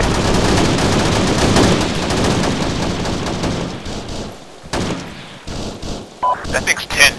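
Sustained heavy automatic gunfire pours into a building during an Arma 3 airfield assault, dense overlapping bursts filling the first half before thinning into sporadic shots and a few sharp reports, with voices talking over the battle.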